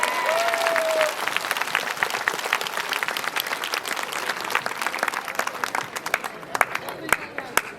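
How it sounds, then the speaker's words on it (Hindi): A congregation at a prophetic ministry worship gathering breaks into loud, sustained clapping, dense and continuous, with voices and cheering mixed in throughout. "प्रभु के लिए ताली बजाएंगे।"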